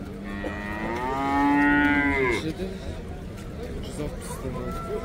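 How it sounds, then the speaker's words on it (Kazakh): Cattle at a livestock bazaar in Taraz, one cow letting out a loud, drawn-out moo that rises and then breaks off, while traders chatter in the background. "Сиырлар не деп отыр екен көке, ар жағындағы екі сиырды?"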